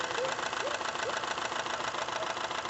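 A faulty car engine with black, oily coolant runs with a steady, close mechanical knocking and rattle over a continuous droning idle, with no voices.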